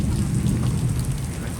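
Heavy rain pours down in a dense, steady roar with deep low rumbling beneath, constant and loud throughout.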